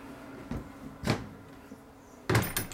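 The door of a 2018 Atlas Sherwood static caravan is fastened back, giving a few soft knocks and a latch clunk spread over a couple of seconds, fairly quiet and close.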